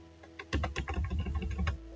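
A quick burst of keystrokes on a computer keyboard lasts about a second, a rapid run of close, crisp clicks that stops abruptly.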